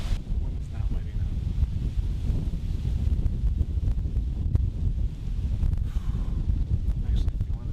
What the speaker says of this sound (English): The wind is not letting up.